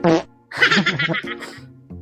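A comic fart sound effect, a loud, buzzy, sputtering blast in several bursts of uneven length, standing alone without talk.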